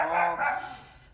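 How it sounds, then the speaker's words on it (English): A dog barks a couple of times nearby, short muffled woofs that quickly fade out. "Excuse the barking"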